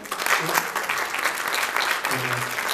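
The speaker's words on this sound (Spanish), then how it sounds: "¿le damos un aplauso a Jimena?" A crowd applauds a councilwoman at a community event on autism and inclusion, steady dense clapping filling the room, with a voice briefly audible near the end.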